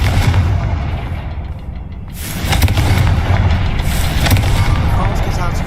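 A Confringo blasting spell goes off in the Hogwarts Legacy video game, a loud booming burst within a dense, continuous wash of game effects and rumble.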